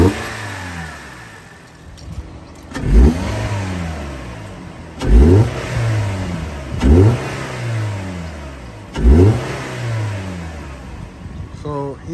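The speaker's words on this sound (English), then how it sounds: "So he's on stock exhaust right now, and it sounds like that." A 2018-2022 Toyota Camry engine on stock exhaust revs hard in repeated bursts, roughly four sharp climbs and drops with idling between, close and loud.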